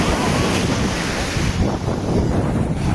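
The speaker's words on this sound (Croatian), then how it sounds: "Ovo valovi su dobro." Aegean Sea waves breaking on a Greek beach in summer, a steady loud wash of surf with gusty wind buffeting the microphone throughout.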